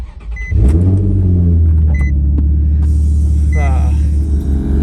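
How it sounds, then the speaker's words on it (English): A loud air compressor in a garage runs continuously with a heavy droning rumble that starts abruptly and holds steady, close and dominant, with a few faint clanks over it. "Here goes that loud ass compressor."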